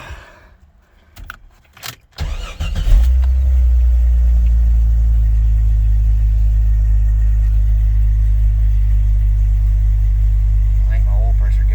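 A Jeep XJ that had been skipping and missing at idle cranks after some key jangling, catches, and settles into a loud steady idle rumble that carries on to the end.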